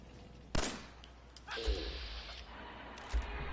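Pistol shots in Fallout 4 during a ghoul fight, a few sharp single cracks spaced about a second apart, each followed by faint game noise.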